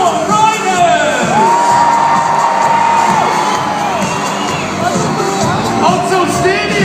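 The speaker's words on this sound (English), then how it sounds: "a round of applause for all 4 riders" Stadium crowd at a monster truck show at Odsal Stadium, loud cheering, whooping and shouting with applause, a sustained roar with children's shrieks rising over it and voices calling out.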